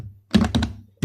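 Keys clack on a computer keyboard in a short, close burst of three quick taps, a pause, then one more, with no voices.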